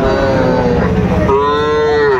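A Sahiwal bull calf moos loudly and close by, a long drawn-out low call that rises in pitch toward the end, with no talking.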